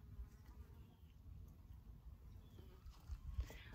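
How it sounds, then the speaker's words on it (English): Wasps and honeybees buzz around blooming blackberry flowers outdoors, a faint, continuous hum that wavers as the insects move, with no voices. "You can see wasps, and you can see some of our honeybees."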